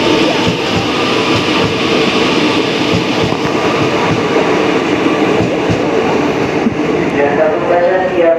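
A KRL Commuter Line train with twelve cars rumbles past up close at a Jakarta station, loud and continuous, with rhythmic clacking wheels and a faint announcement-like voice under the roar.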